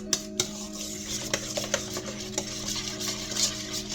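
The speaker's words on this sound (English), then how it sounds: "So we've got this stirred up pretty good." A spoon stirs pumpkin cheesecake pie filling in a bowl, producing steady scraping and soft clinks with occasional sharper taps, close and continuous, over a faint hum and no voices.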